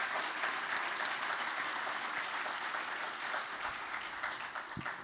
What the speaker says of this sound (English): I also want a big round of applause for all the deputies out there protecting us right now.